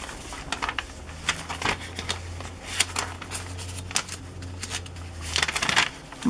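Vintage gift wrap paper, baby and wedding designs, is handled up close in bursts of crisp crinkling and rustling, with uneven pauses between movements and no talking.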